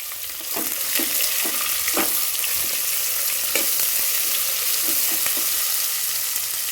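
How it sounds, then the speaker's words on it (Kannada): Onions and mint frying in hot oil for a green vegetable biryani, a steady loud sizzle throughout with occasional scraping stir strokes, close up and no talking. "ಈರುಳ್ಳಿ ಹಾಕ್ಕೊಂಡು ಫ್ರೈ ಮಾಡ್ಕೊಳ್ತಾ ಇದ್ದೀನಿ"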